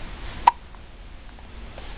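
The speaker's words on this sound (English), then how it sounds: "You have the hiccups?" A single short hiccup from a person, quick and close, standing alone against a quiet background.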